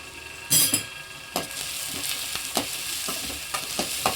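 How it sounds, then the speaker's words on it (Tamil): Onion, crushed garlic and curry leaves fry in hot oil with mustard seeds, a constant close sizzle broken by a loud initial crackle and repeated spoon-against-pan clinks while stirring. "எல்லாம் ஒன்றா சேர்த்து மிக்ஸ் பண்ணிடுங்க வெங்காயம் வந்து நல்லா வதங்கி வரட்டும்"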